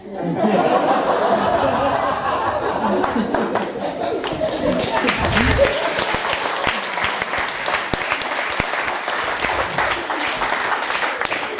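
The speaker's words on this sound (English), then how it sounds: "That better not be a pity clap." Scattered clapping grows into fuller applause from a stand-up comedy audience, mixed with chuckles and light laughter, steady and fairly close throughout the stretch.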